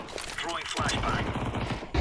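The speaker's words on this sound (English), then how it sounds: "I'm shooting Timothy" A shooter video game fills the short span with a dense rattle of rapid gunfire, loud and continuous, with a brief burst of shots at the very end and a player's voice.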